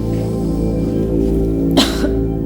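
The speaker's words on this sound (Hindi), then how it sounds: "मामूली खांसी है" A single short cough bursts out over a steady background hum.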